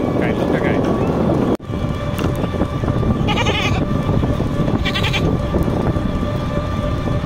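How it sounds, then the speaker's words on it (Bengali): A goat bleats twice in short bursts at a crowded Eid livestock market in Panchagarh, under a dense, steady din of voices and movement. "ছাগল এখানে আছে"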